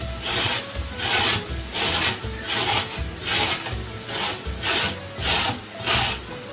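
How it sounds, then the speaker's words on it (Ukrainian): A carrot is rubbed against a coarse grater in about a dozen even back-and-forth strokes, each a close, gritty rasp in a steady rhythm, with no voices. "А тим часом беремо моркву, натираємо її на крупній терці."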